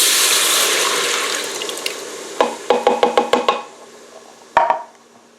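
Broth poured into an Instant Pot to deglaze after searing a chuck roast: a splashing pour that fades, then a quick run of sharp scraping knocks and one final clatter.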